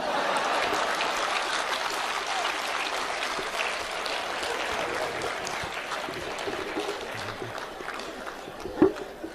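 A live comedy-show audience claps in a dense, steady wash of applause that holds for about nine seconds and fades slightly toward the end, with one sharp louder clap near the close.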